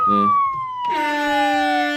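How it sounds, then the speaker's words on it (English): A loud descending blowhorn sound effect from a soundboard slides downward, joined midway by a burst of brassy, layered blaring that holds steady to the end. "I love the blowhorn noise as well."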